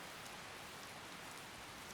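Steady, quiet rain falls in Skyrim as an even wash of hiss with no distinct drops, constant throughout.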